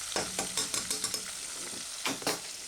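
Pieces of beef sizzle in oil in a pan for a beef and ale stew, with a steady frying hiss broken by several sharp scraping clicks of stirring against the pan bottom, close and fairly quiet.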